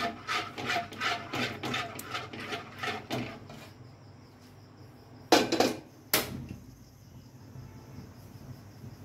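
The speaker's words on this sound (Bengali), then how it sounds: "আমি চামচ দিয়ে যদি এরকম নাড়ে দেই তাহলে একটা কেমন আঠা আঠা ভাব হবে" Spoon stirring sticky rice flour dough in a bowl for white pitha: a quick series of rhythmic scraping rubs, then a pause and two louder scrapes, close up with no talk.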